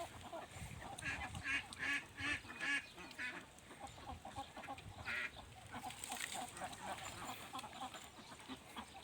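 Egg-laying ducks call in a flock, with a run of loud rhythmic quacks early on, then scattered honking calls over a busy farmyard background.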